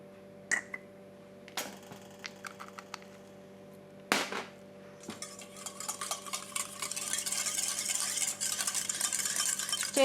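A cosmetic gel mixture being stirred as preservative is worked in: a few sharp knocks and clicks at first, then a steady run of quick scraping, ticking stirring strokes that grows denser and louder toward the end, with no talking.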